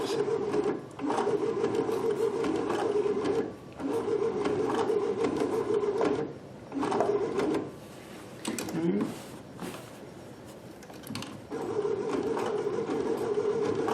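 A Baby Lock Sashiko sewing machine stitching fabric: a steady mechanical whir in several long runs with brief pauses while the fabric is turned, close and moderately loud.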